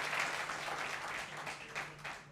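Audience applause for a woman panelist during a televised political debate on reservation, a steady wash of clapping at moderate level with a faint low hum underneath, lasting throughout.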